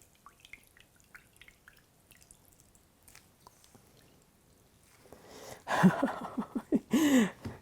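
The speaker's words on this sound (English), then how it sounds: "using the cloth to strain out all the solids, and you are left with your liquid" Liquid from an aronia berry elixir squeezed through a straining cloth, starting as faint scattered drips and building into a burst of wet squishing and splattering trickles near the end, close up with no speech.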